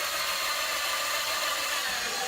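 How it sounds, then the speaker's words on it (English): A power drill boring into a front canard on a sixth-generation Camaro, a steady close whirring grind held throughout without pause. "I'm going to go ahead and drill right into it"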